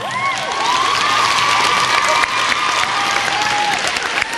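A crowd claps and cheers at a school cheerleading competition awards ceremony, steady and loud throughout, with a high whistle-like tone sustained over the applause.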